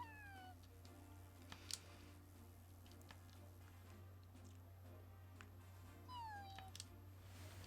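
A cat meowing in the video game Detective Pikachu Returns, two short descending mews, one early and one near the end, faint over a quiet game background hum.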